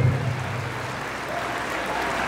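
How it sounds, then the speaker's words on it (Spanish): Crowd applause for a bull rider at a Mexican rodeo-style jaripeo event, a steady dense wash of clapping that holds at an even level throughout, with no clear speech over it. "Regálenle fuerte el aplauso."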